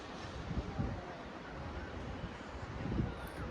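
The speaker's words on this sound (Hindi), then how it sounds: "यहाँ पर शाम को ना इतनी मस्त मस्त हवा चली हुई है।" Evening wind blows outdoors, a steady low rumble of gusts buffeting the microphone, swelling slightly at a few moments, with no voices.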